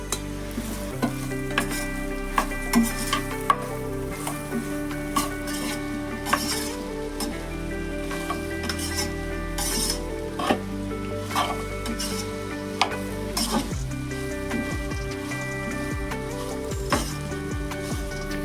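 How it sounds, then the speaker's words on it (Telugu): Okra pieces stirred and fried in a pan with chili powder: a steady loud sizzle runs throughout while a spoon scrapes and clinks against the pan in frequent sharp bursts, close up and with no voices. "ఇలా బెండకాయ ముక్కలన్నీ దిగురు పోయే వరకు బ్రౌన్ కలర్ వచ్చేదాకా ఎంపుకోవాలి"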